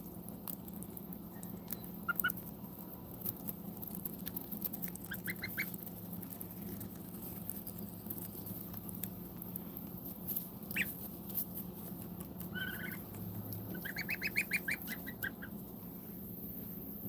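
Young bar-headed goose goslings give soft, high peeping calls in short scattered bursts over a steady low hum indoors, faint and intermittent.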